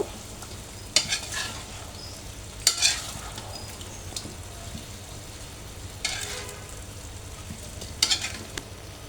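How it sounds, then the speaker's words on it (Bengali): Raw mango pickle with turmeric being stir-fried in a pan: a low, even hiss with a few separate bursts of spatula scraping spread a couple of seconds apart. "এটাকে এখন আমি ভালো করে একটু কষিয়ে নেব।"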